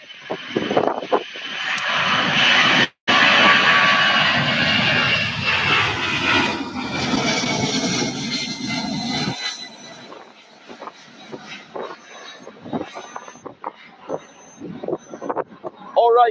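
Boeing 757-200 jet at Louisville airport, its engines roaring loud and broadband for about nine seconds before fading to a distant rumble as people talk quietly.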